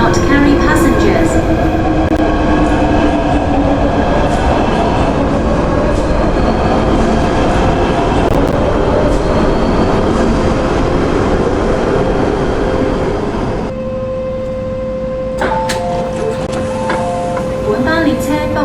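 An MTR M-Train pulls into a station on the North Island Line in the OpenBVE train simulator, a continuous loud rumble of wheels and motors with clattering and squeals, while bilingual platform announcements play over it.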